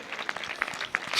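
A church congregation clapping together during a Hindi-language sermon, a short burst of scattered, uneven claps that builds louder at the end, with no talk over it.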